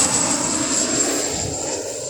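A Jet2 Boeing 737 airliner flies past near Birmingham Airport, a steady broadband engine roar holding at an even, fairly loud level throughout with no talking.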